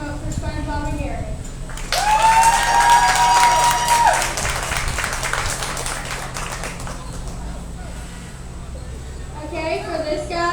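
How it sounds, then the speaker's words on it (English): Crowd at an alpaca costume contest clapping to vote for a favorite costume, applause swelling after a pause and trailing off, with a whistle-like tone early and voices at the edges. "I'm going to have you guys clap as loud as you can for whichever one you guys want"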